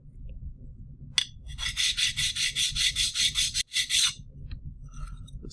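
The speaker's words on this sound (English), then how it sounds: "So I'm going to be using my handy dandy sandpaper and just lightly, very lightly," Sandpaper worked by hand over a transmission part for a K24 engine build, a rapid rhythmic run of rasping back-and-forth strokes, close and even, briefly pausing before a few final strokes.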